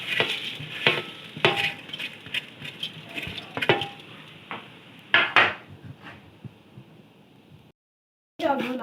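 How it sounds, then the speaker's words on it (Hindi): Thick vermicelli frying in oil with green cardamom, gentle sizzling broken by repeated scraping and clinks of a spoon against the pot, a short pause of silence, then stirring resumes. "अब ये सेवइयाँ हम मोटी अपनी डालकर और इनको फ्राई करेंगे।"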